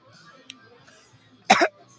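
A man coughs once, a short harsh throat-clearing burst close to the microphone, after a stretch of faint low background murmur during a live hot wings show.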